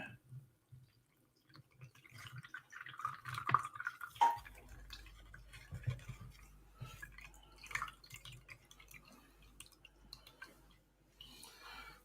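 A colourful drink drips through a coffee filter in a funnel, soft, irregular trickles and drips heard quietly at close range, with a few faint voices and bumps in between.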